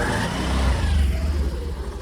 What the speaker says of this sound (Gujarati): ઘણી બધી મહેનત બાદ એક્ટિવા સ્ટાર્ટ થઈ ગઈ છે